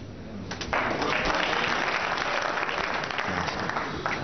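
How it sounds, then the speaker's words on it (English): A snooker crowd at the World Championship breaks into applause, a sustained dense clapping that swells after a quiet start and holds steady at moderate distance. "Crowd are buzzing now."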